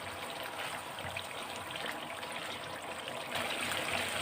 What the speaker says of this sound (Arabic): هي عماله تغلي جامد كده وبتعمل كده زي فقاقيع كده